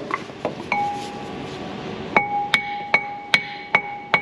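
A hammer strikes a part on a CAT 3126 diesel engine with sharp metallic clinks that ring out, a few scattered taps followed by a steady run of evenly spaced blows, close and loud, with no talk.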